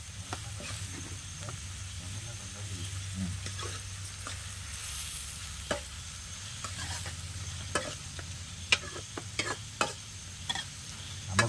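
Sliced onions soften in a frying pan, a quiet continuous sizzle with a low hum underneath and sporadic spoon taps and scrapes that grow busier toward the end, close by with no voices.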